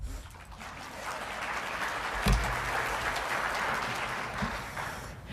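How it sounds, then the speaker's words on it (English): A round of applause fills the room at a government briefing, a soft, even wash of clapping from a crowd that holds steady throughout, with a couple of brief thumps near the middle. "So that does deserve one more round of applause"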